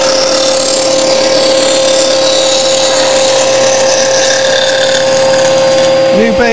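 A bandsaw cuts pallet wood with a loud, steady whine and hum held throughout at close range, with voice mixed in.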